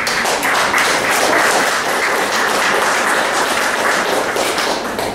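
An audience at a poetry open mic applauding a poet, a dense, steady roar of many clapping hands, loud and sustained throughout with no speech over it.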